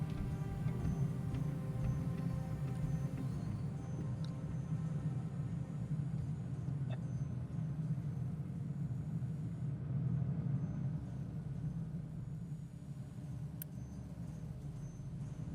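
A truck drives in the Captain of Industry video game, with a steady low engine rumble and faint ticking running throughout, alone and without voices.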